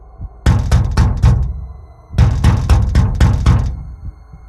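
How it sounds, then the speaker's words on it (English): Knocking on a locked metal door: two close, loud bursts of sharp knocks, four raps and then about five, separated by a short silence. "Then I knocked."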